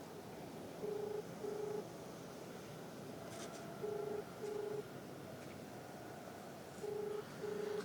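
Telephone keypad tones dialing a call, three pairs of short, steady beeps spaced evenly apart and heard clearly over a low background hum.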